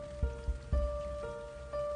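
Steady heavy rain falling as a constant hiss, with a few dull low thuds and a faint tonal hum running underneath, in a dramatic scene.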